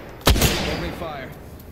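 Gunfire in Apex Legends, a loud heavy shot followed by a second blast and a long rumbling echo that fades out over a second or so.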